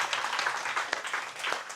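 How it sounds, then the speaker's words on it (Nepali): An audience claps along during a talk on mental wellbeing in Nepal, a fairly soft, continuous patter of many hands with uneven bursts, heard from a little distance. "यता ताली बजाउनु त"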